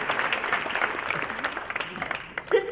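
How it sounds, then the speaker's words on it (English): Audience at a Cherry Blossom Queen coronation applauding the candidates: a moderate, scattered patter of clapping from a crowd, uneven and somewhat distant, with voices mixed in. "So please give the candidates and also the former queen a round of applause for their work on the opening number."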